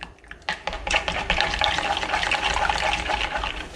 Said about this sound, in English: I'm gonna vigorously stir this yellow so I can get bubbles